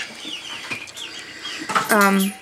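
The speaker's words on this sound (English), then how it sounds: "What do you chickens want?" Chickens cluck close by in a few short, choppy calls, building to a louder, drawn-out cluck near the end over light background noise.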